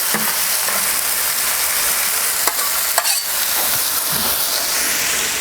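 Wagyu smash burgers and onions cooking on a Kamado Joe grill give off a loud, continuous, close sizzle with a steady hiss, broken only by a few faint clicks.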